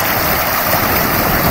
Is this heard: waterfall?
yes